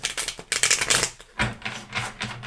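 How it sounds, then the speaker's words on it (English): A deck of tarot-style reading cards being shuffled by hand, a close series of quick papery riffles and flicks in irregular bursts, with no talking. "It's the card shuffle time. So bear with me a little while I'm shuffling them."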